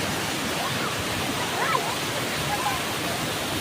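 Water pours steadily from a pipeline at a dam, a loud, continuous rushing roar that fills the whole stretch without a break.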